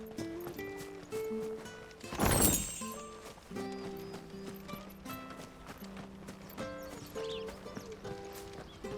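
Horse hooves clip-clop near the stables in the video game Final Fantasy XVI, a faint rhythmic walking gait under soft in-game music and ambience.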